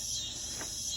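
Insects chirp in a backyard with chickens, a faint, steady high-pitched trill continuing throughout, quiet and distant.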